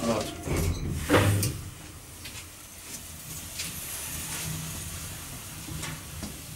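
A Svenska TecnoLift roped hydraulic elevator door at Bagargatan slides open with a brief rumbling clunk near the start, followed by a steady low mechanical hum and faint background voices.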